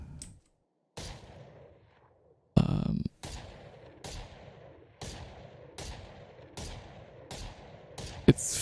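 Guardian rifle firing in the video game Valorant, a string of about nine sharp single shots spaced roughly half a second apart, each with a quick decaying tail, loud and close.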